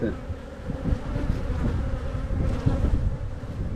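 A dense, steady buzz of many honeybees humming together inside a hive, continuous and close, with a low droning hum that swells slightly at times.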